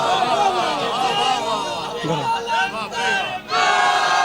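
A majlis crowd in Okara shouts the Nara-e-Haidari slogan together, a loud massed chorus of voices rising in bursts with a brief dip near the end before the shouting resumes.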